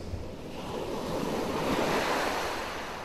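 Ocean waves washing onto a beach shore, a continuous soft roar of surf swelling and receding with some wind noise, with no voices.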